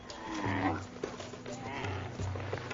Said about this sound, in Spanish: El camello.